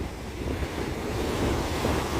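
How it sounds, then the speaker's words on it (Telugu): Sea waves rolling in close to the shore near a passing cargo ship, a steady loud wash of surf mixed with wind buffeting the microphone. "అలలు అయితే చూడండి ఎంత దగ్గరకు వస్తున్నాయో చూడండి"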